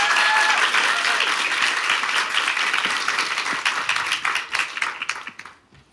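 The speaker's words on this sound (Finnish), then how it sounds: "Nyt annetaan isot aplodit meidän vieraille." Big round of applause from an audience for guests at a youth event, dense and loud at first, then thinning into scattered claps before fading out.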